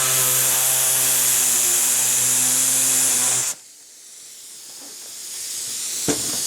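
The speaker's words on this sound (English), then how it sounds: "So I just use an air hacksaw, makes it real easy." A pneumatic air hacksaw trims excess fiberglass edging from a mold. It gives a steady, loud, hissing buzz that cuts off abruptly partway through, leaving quieter room noise and a brief tap near the end.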